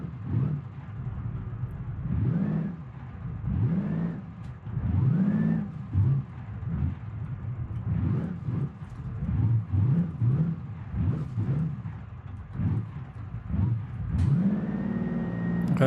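A used truck's engine revs and accelerates repeatedly while driving, rising and falling whines over a steady mid-pitched rumble, close and fairly loud throughout.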